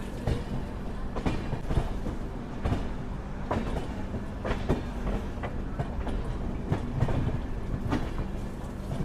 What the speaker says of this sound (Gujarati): આ ટ્રેનનો થોડોક અંદરનો માહોલ છે। અમારી છે 3rd AC।